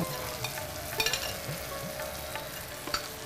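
Rice frying in a pan with garam masala, a steady close sizzle with scattered stirring scrapes and small clicks running throughout, no voices.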